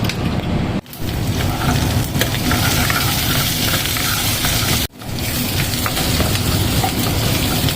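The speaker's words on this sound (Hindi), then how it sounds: "ये तड़का तैयार हो रहा है।" Turmeric and chilli tadka sizzling in hot oil for a pakora kadhi, a loud, steady crackling hiss that runs almost continuously, broken by two brief dips.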